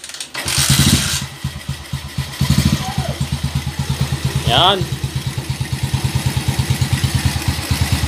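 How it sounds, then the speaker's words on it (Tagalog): A Motorstar motorcycle being checked for a noisy engine and an overflowing carburetor kicks over with a couple of revving bursts, then settles into a steady, rhythmic idle thump; someone speaks briefly near the start. "Okay, testing natin yung kanyang motor mga bro."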